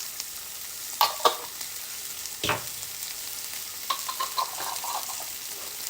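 Chopped medium onion frying in a pan with ginger and garlic, with a soft steady sizzle, a few scraping stir strokes and clinks near the start and middle, close and fairly quiet.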